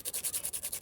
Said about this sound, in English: Now I'm using quite a rough sandpaper